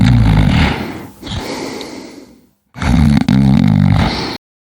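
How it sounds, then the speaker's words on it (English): A person snoring loudly and close, with two long rasping, roaring breaths separated by a short silent pause. "I am snoring."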